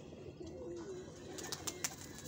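A pigeon in Lahore gives a soft, low coo, faint and brief, followed by a few sharp light clicks against a quiet background hiss.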